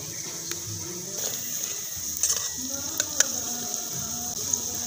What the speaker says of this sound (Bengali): উল্টে পাল্টে ভালো করে চারিদিকটা ভেজে নিচ্ছি।